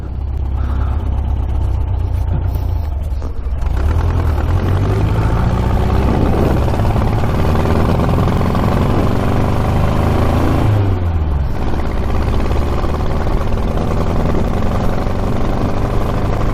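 A street-legal 1967 Volkswagen dune buggy engine idles roughly and sputters, a steady close rumble that stays loud and continuous with no talk over it.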